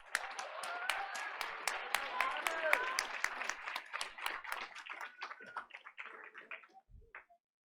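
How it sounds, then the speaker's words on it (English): Crowd applause at a school board meeting, dense clapping from many hands that thins out and fades to a few scattered claps before stopping. "Please give him another round of applause."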